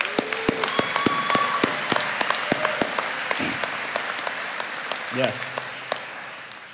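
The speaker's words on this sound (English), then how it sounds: "Give yourselves a round of applause." Graduates of the Apprentice School Class of 2022 applauding themselves at their graduation ceremony: scattered, distinct claps that thin out over several seconds, with a voice speaking briefly.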